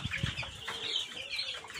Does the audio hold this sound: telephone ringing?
no